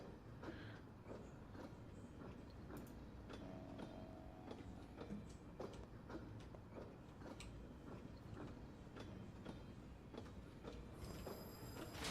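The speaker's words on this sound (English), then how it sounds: "No one sells tickets to ride this train." Train from the video game Pathologic 2 rolling along with a steady rumbling clatter, repeated metallic clanks and knocks, and a brief mechanical whine near the end; continuous and moderately distant, with no voices.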